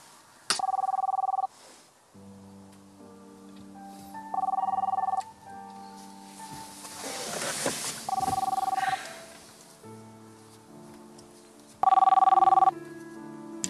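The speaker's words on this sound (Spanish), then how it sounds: "Y te va a estar llamando hasta que le coges el teléfono." A telephone rings in four loud, evenly spaced electronic bursts during a Spanish TV drama scene, with voices and quieter background music between the rings.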